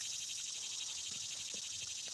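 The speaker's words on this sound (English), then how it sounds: "That's a cicada." A cicada drones in a steady, loud, continuous high-pitched buzz outdoors, with faint low rumbles underneath and no voices.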